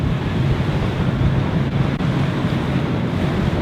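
High ocean waves surging beside a fishing vessel on open sea, a steady loud wash of surf and wind noise with no clear breaks.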